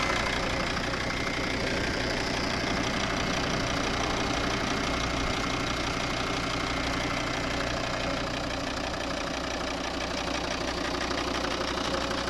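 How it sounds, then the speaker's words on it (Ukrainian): A 2011 Volvo V50 2.0 diesel engine idles steadily with a low, even rumble and a faint rhythmic knock, continuous and close for the whole stretch, with no talking. "Ось робота двигуна."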